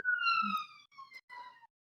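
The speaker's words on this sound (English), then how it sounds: "I'm just gonna let the ambulance go past." Ambulance siren outside wailing in a falling tone and then repeating in fainter, broken bursts as it moves away, heard alone without talk.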